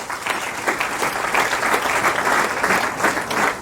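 A church congregation claps loudly and steadily, a thick wash of many hands applauding continuously for several seconds at close range with no talking over it.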